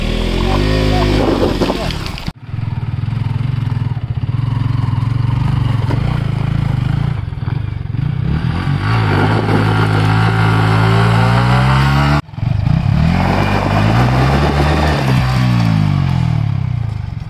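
A loud motorcycle engine labours and revs steadily under heavy load climbing a steep hill, dropping briefly twice before straining on, close and continuous.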